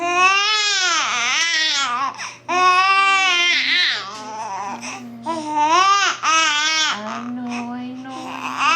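A two-week-old baby fusses and cries at feeding time, with wavering, high-pitched wails broken by short pauses and whimpering breaths, loud and close.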